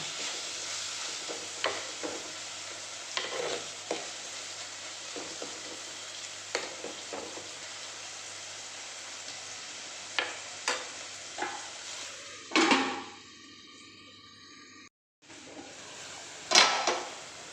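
Tomatoes, chilli, ginger and garlic for a mushroom curry are stirred in a pan: a quiet sizzle under irregular scrapes and knocks of the spoon, followed by a brief lid rattle near the end, with no speech.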